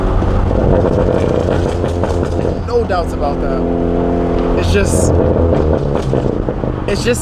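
A big-turbo Ford Focus ST, front-wheel drive with over 400 horsepower, being driven with a loud, steady engine drone from inside the cabin. The drone swells and shifts pitch partway through, and someone speaks briefly over it.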